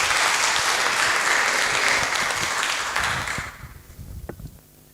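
Loud applause from an audience at a college poetry and book review competition greets a contestant taking the stage, a thick sustained roar of clapping that tapers off after about three and a half seconds into a few stray claps and footsteps.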